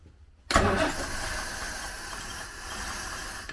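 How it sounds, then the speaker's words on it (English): A 1939 Rover Tickford 20 drophead engine cranks and catches abruptly, then settles into a steady, close idle with a hissy mechanical hum that continues alone to the end. "It idles."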